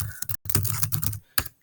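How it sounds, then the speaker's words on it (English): Close keystrokes on a computer keyboard come in a quick irregular burst of clicks, pausing briefly, then a final single tap, with no talking. "As you're typing,"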